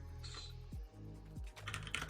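Computer keyboard typing at close range during a software setup session, a steady run of clicky keystrokes over a low background hum, picking up into quicker, denser taps toward the end.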